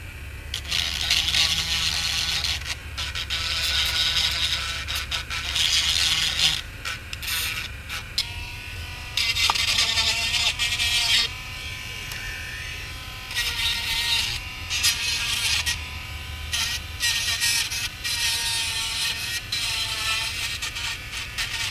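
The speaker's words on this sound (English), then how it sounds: "Let's go ahead and grind this up a little bit with this diamond wheel, see if we can clean her up a little bit." A diamond wheel grinding old glue off a part while repairing a Realistic Patrolman 4 radio, with harsh, raspy bursts of grinding that start and stop repeatedly at close range.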